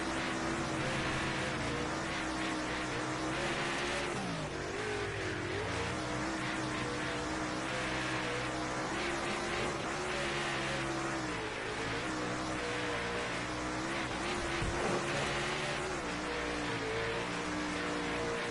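A late model race car from a racing video game at Fairbury laps steadily, its engine droning loud and continuous with rising and falling revs through the corners, alone without talk.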